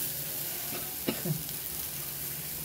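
Green chilies roast in a pan, a steady close sizzle with a couple of brief stirring scrapes partway through.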